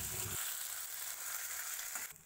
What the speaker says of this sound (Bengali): আমি থেতো করে রাখা আদাটা এবার দিয়ে দেবো আর একটু এটা ভাজা ভাজা করে নেব